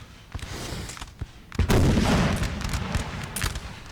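Musket volley fire in a Napoleonic battle in Napoleon: Total War, a ragged run of sharp gunshot cracks building into a dense, rolling burst of massed fire with booming artillery underneath, moderately distant.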